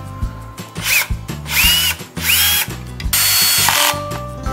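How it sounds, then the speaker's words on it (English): A power drill drives screws into a hoverboard frame during a repair, with loud close bursts of whirring motor that rise in pitch, broken by short pauses and ratcheting clicks. "fix the hoverboard to the frame by using the screw"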